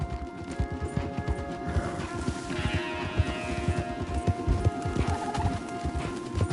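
Horses being ridden, their hooves beating a rapid, rhythmic clip-clop close by, with a whinny rising midway and faint birdsong behind the steady galloping.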